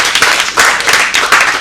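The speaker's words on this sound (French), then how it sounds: "On applaudit très très très fort pour le complexe scolaire" Loud, dense applause for the Emmanuel 5 school complex at a school event, many hands clapping continuously and close.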